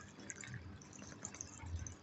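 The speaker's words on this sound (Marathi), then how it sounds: "ह्याच्यामध्ये आपण आता थंड पाणी टाकून घेऊया" Cold water poured into a cooking pot of boiled soybeans gives a brief, soft splashing and trickling close by, with low bubbling gurgles and no talk.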